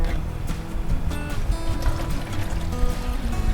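Water runs into a basin being readied for soaking sweet potatoes, a close, continuous splashing pour with gurgles that keeps up throughout.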